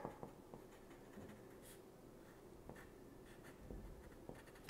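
Pencil scratching across a sheet of paper as a drawing is made, a soft, steady, close-up scribble with light strokes and small taps throughout, alone without talk.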